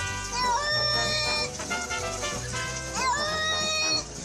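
A cat meows twice in long, wavering calls that sound like it is saying "mama," close and loud with a short pause between the two cries.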